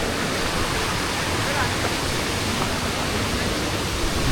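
River water at a swimming spot near Pirandavane village rushes steadily and close by, a dense, unbroken wash of flowing water that holds at an even level throughout.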